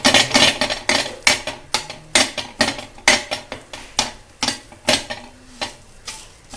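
Eggs cracked into a pan while making kobad anda, a series of sharp, regular clacks against cookware repeating roughly twice a second, close and fairly loud with no talking.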